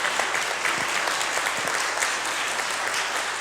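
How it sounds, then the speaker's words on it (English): Audience applause for city council candidates at a climate and environment forum in Bellevue, Washington, a steady dense clapping from a crowd that holds at an even level throughout. "let's give a big round of applause to our candidates"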